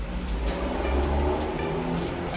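A truck passing outside, a steady low engine rumble with a mid-range drone that swells and eases as it goes by, at moderate distance behind an indoor room.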